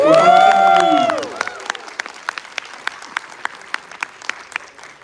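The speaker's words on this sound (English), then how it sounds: "Because you clap so loud" A conference audience breaks into applause at a loud sustained peak, then fades to scattered individual claps, while a voice rings out over the opening moments.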